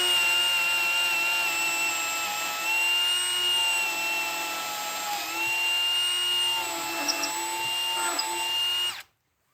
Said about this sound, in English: And now I secure the beam and he can drill.